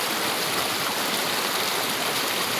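River water rushes steadily over rocks in a clear, clean stream, a continuous broadband splashing roar that stays close and even throughout with no voices.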